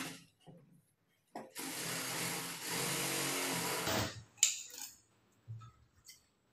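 A sewing machine stitches cloth in a tailoring workshop, a loud close whirring run of about two and a half seconds, followed by a few clicks and short taps as the work stops.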